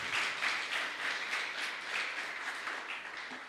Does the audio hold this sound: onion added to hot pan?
no